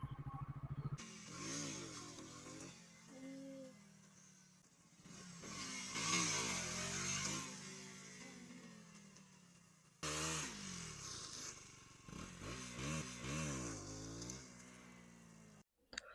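A KTM Duke 200 BS6 motorcycle engine revs repeatedly, rising and falling in pitch in bursts with short pauses, loud and close, with no talking.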